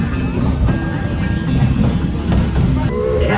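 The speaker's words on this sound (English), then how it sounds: "The train ride was super fun." A train ride at Silverwood Theme Park: a steady rumble and clatter of rolling cars, close and loud, with brief faint whistle-like tones near the end.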